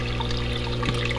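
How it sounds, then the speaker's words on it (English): A small Rio pump inside an aquarium filter chamber keeps water circulating and gently tumbling the filter media, giving a steady, close trickling and burbling wash with no break. "it's just run by a little Rio pump on the bottom, and it's hard to see in there, but that's just tumbling slowly the media in there"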